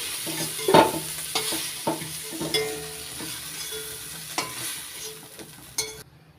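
Shrimp sizzling in hot oil in a wok while a utensil scrapes and stirs the pan, with sharp clacks now and then over a steady frying hiss.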